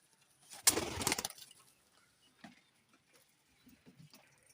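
Pigeons kept for sale give a short burst of cooing and wing-flutter near the start, followed by a few faint, scattered soft calls in an otherwise quiet space.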